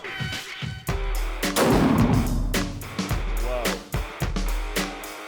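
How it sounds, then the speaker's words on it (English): .375 H&H rifle firing a 260 grain E-tip bullet into a gel block at 20 yards outdoors, a single loud close shot with rumbling echo, framed by sharp clicks and handling noises and brief voices. "Next up at 20 yards, the 260 grain E-tip out of the 375 H&H."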